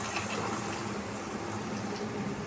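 Coconut milk pours into a pan set on a low flame, making a continuous liquid rush and gentle bubbling hiss that lasts the whole moment, close and steady.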